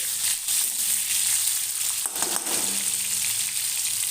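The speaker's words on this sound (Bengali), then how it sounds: "এই পটলগুলো একটু লাল লাল করে ভেজে নেব" Pointed gourd pieces sizzle and fry in oil in a kadai, a steady close crackle with occasional stirring clinks and a brief scrape midway.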